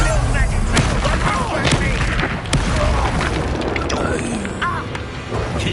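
An Incendio fire spell cast in the Hogwarts Legacy video game amid dense combat effects, continuous booming, crackling blasts and impacts layered loudly throughout with no clear pause.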